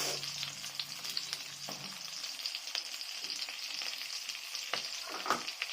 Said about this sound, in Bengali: হলুদ লঙ্কা দিয়ে একটু ভেজে নেবো, কষিয়ে নেবো।